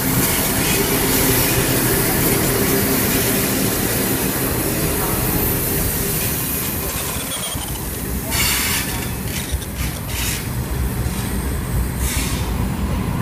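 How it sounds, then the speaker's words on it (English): A freight train hauled by a single 81 class locomotive passes at Dulwich Hill station in Sydney, making a loud continuous roar with rattling wagons and squealing wheels. The noise runs unbroken throughout and comes from close by. "And there's some freight coming. Just one loco, 81 class, 8142."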